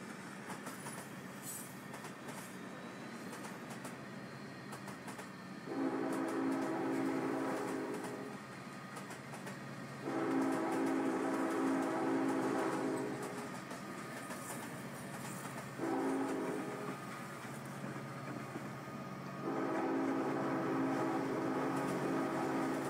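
In a Train Simulator 2021 game, a local train hauled by a pair of GP40 locomotives rolls past, a steady rumble of cars and wheels broken by a low repeating engine tone that swells and fades four times.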